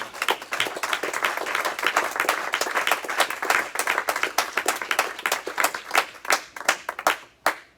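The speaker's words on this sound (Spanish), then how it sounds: "Denle un fuerte aplauso al Señor." A church congregation bursts into loud, dense applause that carries on for several seconds, then thins into scattered individual claps before stopping.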